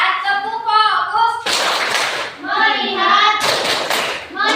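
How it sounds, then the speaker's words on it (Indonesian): Children in a classroom perform a rhythmic focus clap, chanting words in unison between two loud bursts of hand clapping, the clapping sharp and close. "Mulai ya, tepuk fokus."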